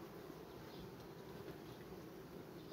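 A soft, steady drone of many honeybees buzzing together at a hive, continuous and fairly faint, with no voices.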